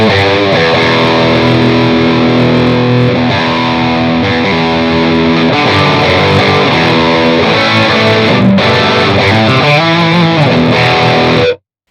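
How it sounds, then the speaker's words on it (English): Loud distorted metal guitar chords through The Crown amp sim shimmering with a wavering chorus effect, played continuously for several seconds with no talking. "and the chorus sounds like this."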